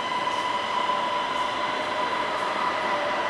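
Bangkok MRT Blue Line metro train at Bang O station, a steady loud rumble and whine of the running train with a sustained tonal hum, continuous and close throughout.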